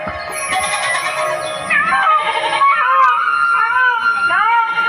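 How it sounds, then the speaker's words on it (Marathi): Loud, bright wailing peacock calls rise and fall repeatedly over a dense morning chorus of chirping birds, with no talking. "मोरांचे आवाज"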